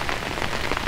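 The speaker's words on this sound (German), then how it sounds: "weil bei dem Regen" Steady rain patters on surfaces beside a canal during a carp-fishing outing, a dense, even hiss with no voices.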